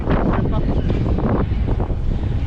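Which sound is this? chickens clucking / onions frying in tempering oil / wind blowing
wind blowing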